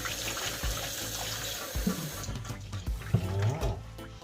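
Tap water runs over chicken back in a sink while it is rinsed with vinegar, a steady close splashing with irregular knocks and gurgles as the meat is handled.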